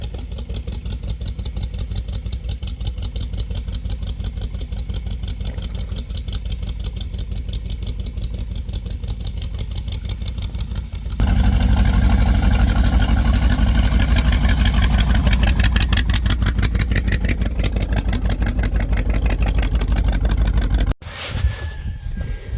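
The engine of a 1972 Dodge Dart running steadily close by, a continuous pulsing idle that grows louder and rougher partway through before a brief drop near the end.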